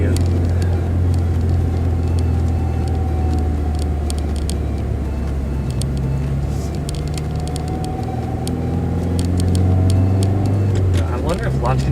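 A 2017 Subaru WRX tuned with a Cobb Accessport Stage 1 holds a loud, steady engine drone during a launch control test, its pitch slowly shifting before rising near the end, with scattered clicks over the top.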